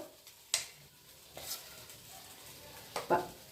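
Oil heating in a pan on a home stove, a faint quiet sizzle broken by a few soft clinks and scraping stirs, with no voices.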